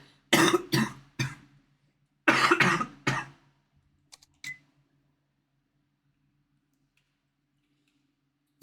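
A person coughs in short harsh bursts: two quick coughs, a pause, then two more, followed by faint clicks and near silence.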